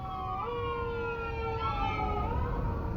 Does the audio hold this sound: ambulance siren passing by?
yes